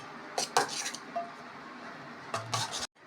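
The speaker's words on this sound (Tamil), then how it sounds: "நல்லா மிக்ஸ் பண்ணிவிட்டு அடுப்பில் வச்சு கொதிக்க வைக்கணும்." A metal spoon stirs ground paste into a pot of lentil and vegetable sambar, giving a few scraping clinks against the pot in two short clusters, close and moderately loud, with quiet pauses between.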